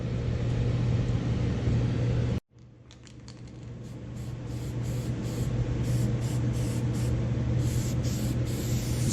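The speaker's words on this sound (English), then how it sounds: "Just a little light coat of acid etch on all that bare metal." A light coat of acid etch primer is sprayed onto bare metal of a 1994 Ford Mustang GT being rebuilt, a steady close hiss that stops briefly, then resumes in short bursts over a constant low hum.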